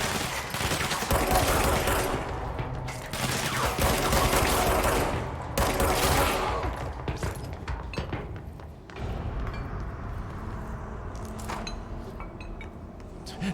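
Repeated shotgun and weapon fire in the Control video game, loud and dense with heavy overlapping blasts and clinks, thinning to scattered shots later.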